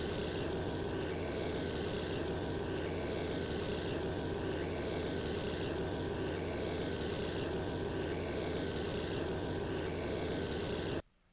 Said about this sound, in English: Waking up my neighbors in the morning with the gasoline engine is extremely satisfying.